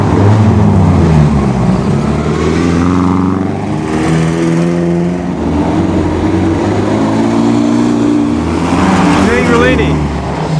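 A vintage Lancia drives in the Mille Miglia, its engine droning loudly and close with shifting revs over about ten seconds, someone talking over the motor noise throughout.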